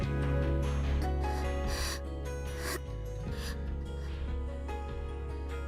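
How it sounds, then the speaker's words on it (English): Harsh, gasping breaths from a character jolting awake in the visual novel Grisaia, heard close up over a steady bed of soft music, with several ragged bursts of air across the span. "Jerking involuntarily out of a light sleep, I hear harsh, gasping breathing nearby."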